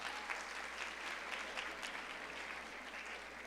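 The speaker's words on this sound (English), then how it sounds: "So a round of applause to everyone in this room." Steady round of applause from a room of attendees at a live community evening event, sustained and fairly quiet, with dense even clapping and no talk over it.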